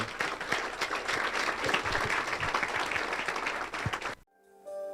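A church congregation claps loudly and steadily for several seconds, then the applause cuts off abruptly into near silence with a faint tone.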